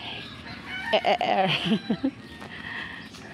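Chickens cluck in short bursts while a rooster crows nearby on a farm in Cagayan Valley, Philippines, with faint background chatter around the birds.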